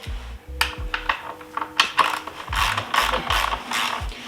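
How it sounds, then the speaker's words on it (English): Ratchet clicking on the 14mm Allen axle of a Honda CRF300L motorcycle, close and loud, coming in several quick bursts of rapid pawl clicks with short pauses between them. "The axle size is 14mm Allen."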